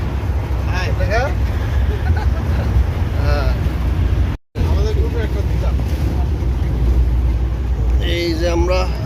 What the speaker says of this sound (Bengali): টুকটুক খুব স্পিডে ছাড়ছে।